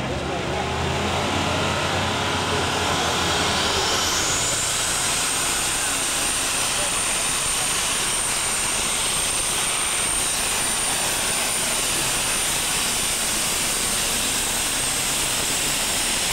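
A Ford super stock pulling tractor with a 456 cubic inch Genesis engine and twin stacks roars loudly and continuously at an NTPA pull in Saline, Michigan, with a rising high whine partway through and an announcer talking over it.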